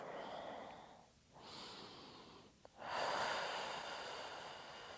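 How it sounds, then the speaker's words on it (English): Gentle deep breathing during a morning hatha yoga session, a slow inhale and exhale, then another long breath, soft and close-miked with quiet airy hiss and a brief pause between breaths. "Gentle deep breaths."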